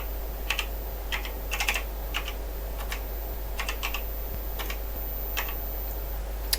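Keys on a Fluke 9010a troubleshooter keypad are pressed while entering values, a string of crisp clicks in short bursts and pairs over a steady low electrical hum, close and alone with no talking.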